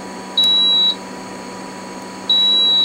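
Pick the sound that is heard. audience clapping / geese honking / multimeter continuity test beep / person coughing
multimeter continuity test beep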